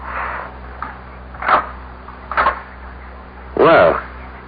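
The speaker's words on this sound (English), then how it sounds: "Knock on the door." Knocks on a door in a radio drama play as a few distinct raps spread out over a low steady hum, with no talk over them.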